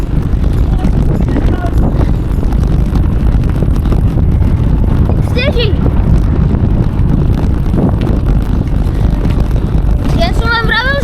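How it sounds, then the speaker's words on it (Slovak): Strong storm wind roars steadily and loudly against the microphone throughout, with brief shouted voices cutting through it. "sme akurát vošli do totálneho vetra"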